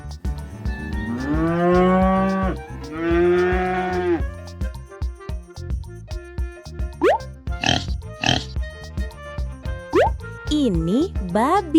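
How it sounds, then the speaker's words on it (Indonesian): A cow moos in two long, loud, drawn-out calls at the start, followed by a voice speaking and other farm-animal sounds. "Sapi suaranya moo moo."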